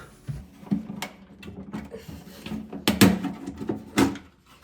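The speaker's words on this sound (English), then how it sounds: "I'm removing the buttons" Flush buttons being pried off a toilet cistern top, a series of close plastic clicks, knocks and rattles spaced irregularly, ending in quiet.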